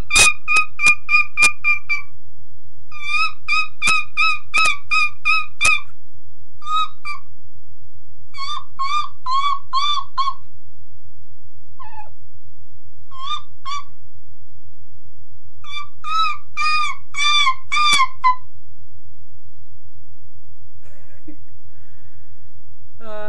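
A human voice imitating a seagull, with a series of high, tonal, wavering cries in short repeated bursts. The calls come in several clusters separated by pauses over a steady low hum, and they fade out toward the end.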